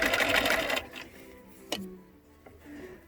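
A home sewing machine stitching a cloth face mask runs in a quick rattling burst, then stops; faint clicks and a soft knock follow in a quiet room.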